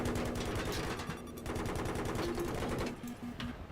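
Rapid automatic gunfire crackles through an infantry and helicopter battle in the video game Battlefield 3, loud and continuous with dense bursts of shots that briefly thin out and then resume.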